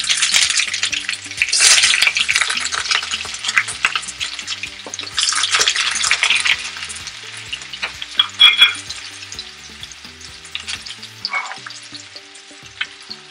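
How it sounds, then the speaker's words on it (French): Onions fry in hot oil in a pan with a loud, bright, continuous sizzle, swelling as they are stirred and punctuated by scraping spoon sounds; no one speaks. "lorsque l'huile est chaude, on met d'abord les oignons."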